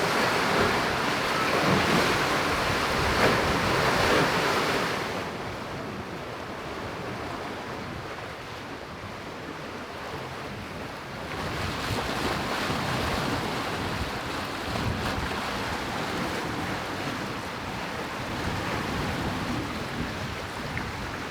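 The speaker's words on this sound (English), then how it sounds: "the squall has finally arrived. We've got nice wind now." Squall wind gusts around 18 to 28 knots rush past a sailing boat at sea, and steady waves wash beneath it. The roar is loud at first, eases midway, then builds again.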